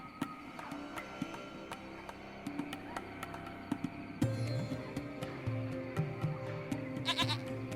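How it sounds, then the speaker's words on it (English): A goat in a jungle village in the video game Lost Horizon gives a few wavering bleats near the end, heard over soft game music and background ambience, with no speech. "Goats eat green things, don't they?"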